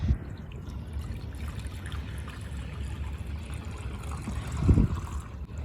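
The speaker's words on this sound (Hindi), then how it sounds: "यहाँ पे हम भर लेते हैं नया पानी।" Fresh water pours into a container during a house cleanup after a dust storm, a steady low trickle and gush running throughout, with a brief louder splash near the end.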